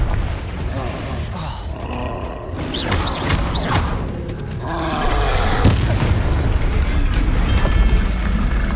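Confringo blasts in Hogwarts Legacy combat burst out as heavy booms and rumbling roars, overlapping with creaks and grunts in a loud, busy fight mix.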